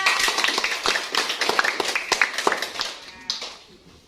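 Children in a classroom clap together, a quick uneven run of hand claps at close range that tapers off near the end, with a voice speaking over it.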